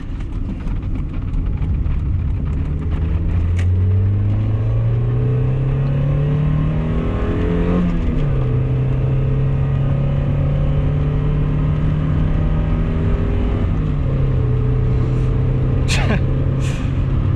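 A 1990 Mazda Miata with a 1.6 liter engine revs through the gears while driving, its engine note climbing and dropping with shifts, loud and close throughout, with a person talking over it.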